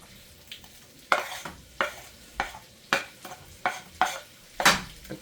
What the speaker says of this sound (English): So let's put these onions in the pot.